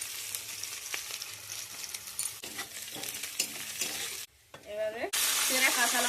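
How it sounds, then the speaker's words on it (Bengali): Chopped garlic sizzling in leftover egg-frying oil in a kadai, a steady crackling fry with stirring strokes, then a short pause and a sharp louder sizzle burst. "ডিম ভাজার তেলে রসুন কুচি দিয়ে দেবো।"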